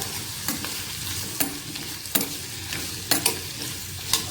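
Onions and green chillies sauté in a pan, with steady soft sizzling and repeated scraping strokes of a spoon against the metal, all close up and without voices.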